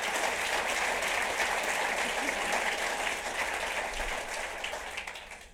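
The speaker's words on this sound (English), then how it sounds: "Let's give him a round of applause." Sustained audience applause at a city's State of the City address in Torrance, California, a thick even wash of clapping that tapers slightly toward the end, with no talking over it.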